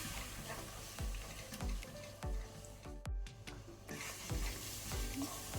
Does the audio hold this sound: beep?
no